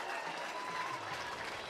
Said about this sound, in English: Tommy Egan is going to get a rousing round of applause.